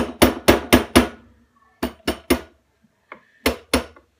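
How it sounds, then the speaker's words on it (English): A rubber mallet taps a rifle's recoil lug down: four quick, close, dull knocks, a pause, three more, a faint tick, then two final knocks. "just get a rubber mallet, and you'll just tap the recoil lug down."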